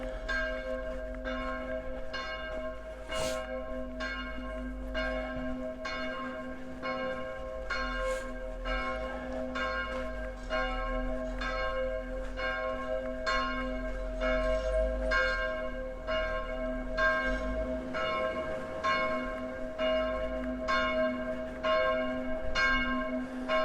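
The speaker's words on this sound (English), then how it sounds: "I'm not sure why they're ringing the bells on a Saturday." Church bells ring continuously on a Saturday on Ryesgade in Copenhagen, Denmark, in a steady, repeating pattern of strikes, moderately distant, with a low hum of ambience underneath and no talking.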